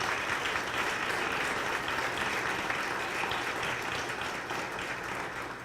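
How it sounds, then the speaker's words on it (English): Audience applause for 2016 chamber award recipients fills the hall, dense and continuous clapping that holds steady for several seconds with no speech over it. "So if you could please applaud and join me in thanking our"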